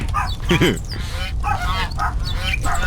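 Honking duck calls from the horror video game Pikabuu: Unhuman sound over a busy game background, a few nasal honks scattered across the moment while someone talks over them.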